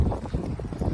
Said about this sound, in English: it's super windy and it's annoying